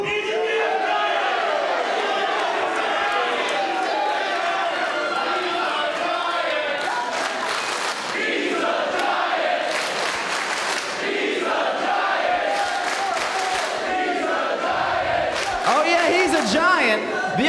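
Wrestling event crowd at a DPW Spark show, a loud, sustained roar of cheering, yelling and whoops throughout, with chants and shouts swelling repeatedly in a packed venue.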